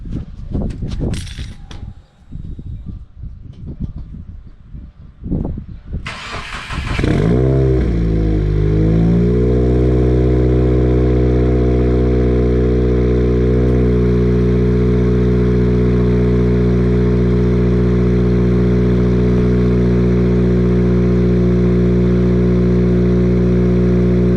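Recorded right at the exhaust, a car engine cranks over after several sharp clunks, then roars to life and settles into a loud, steady idle with strong low rumble, alone without talk.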